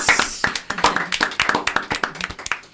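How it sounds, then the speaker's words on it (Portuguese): A small studio audience claps at the opening of a faith-themed podcast episode, with sharp, close, distinct hand claps in an uneven rhythm that fade slightly toward the end. "Palmas!"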